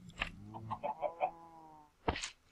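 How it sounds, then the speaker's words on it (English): Minecraft chickens in the Conquest resource pack, a few short soft clucks in a quick series followed by one sharper squawk, faint and heard alone. "Chickens."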